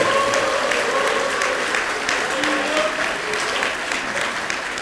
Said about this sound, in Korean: 큰 박수 보내주십시오